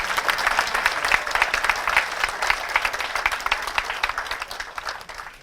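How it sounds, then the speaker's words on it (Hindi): An audience at a university ceremony attended by a state governor breaks into loud, sustained applause, with many hands clapping in a thick, even patter that slowly tapers off near the end. "बधाई देता हूँ तो ताली लगाना चाहिए भैया"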